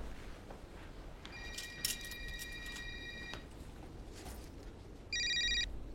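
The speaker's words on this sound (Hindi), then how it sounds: "फोन की आवाज आ रही है।" A telephone rings in a short burst, then pauses, then rings again louder near the end over faint background noise.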